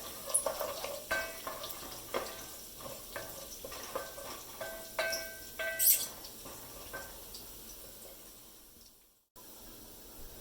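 Garlic and cumin seeds frying in oil in a pan for spinach and potato sabzi, with a steady soft sizzle, intermittent stirring scrapes and crackles close by. It ends in a brief drop to near silence.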